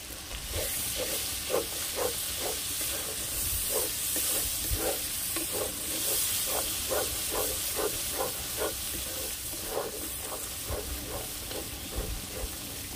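Mutton sizzles and fries in a pan as chilli powder is added, a steady bright hiss with rhythmic stirring scrapes repeating throughout, close and fairly loud.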